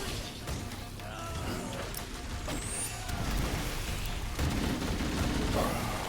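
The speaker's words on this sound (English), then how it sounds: "Don't stop shooting!" Gunfire from Halo: Combat Evolved during a campaign battle: sustained bursts of weapon fire over a dense, loud game soundscape with rumbling effects, continuous and close throughout.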